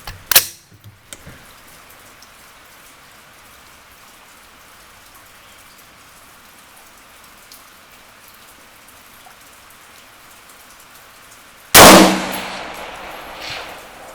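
A single 6.5 Grendel rifle shot at a 650-yard target cracks sharply at the start, followed by a long quiet stretch of faint background and then a second loud burst near the end.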